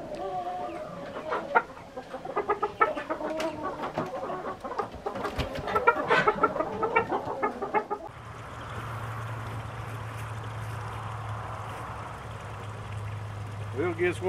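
Chickens cluck and chatter close by in a busy stretch of calls, then give way to a steady rushing noise over a low hum.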